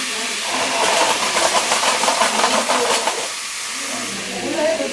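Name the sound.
hot oil spattering while frying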